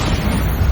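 Bombarda blasting spell in Hogwarts Legacy, a loud sustained explosive roar filling the whole brief moment, dense and close with no gaps.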